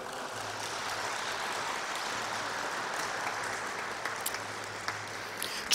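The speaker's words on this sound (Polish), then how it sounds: "Serdeczne dla niego brawa." An audience at a papal anniversary concert marking the centenary of Saint John Paul II's birth claps steadily for an award winner, a continuous crowd applause throughout with a faint low hum beneath and a few sharper claps near the end.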